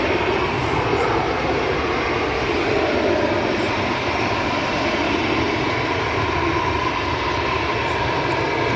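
A four-engine jet airliner takes off at Manchester Airport, its engines a loud, continuous, broadband roar held steady throughout at close range with no talk over it.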